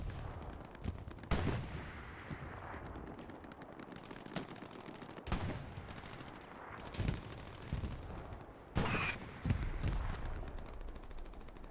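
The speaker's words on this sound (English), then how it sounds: "good shots coming down from the tank here to defend" Tank cannon and small-arms gunfire in the WWII shooter Hell Let Loose, with repeated loud bursts and heavy booms over a dense, continuous battlefield din.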